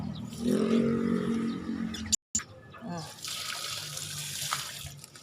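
Water poured onto garden plants splashes and trickles steadily nearby, pausing briefly before resuming with a hissing spray, while a voice talks faintly.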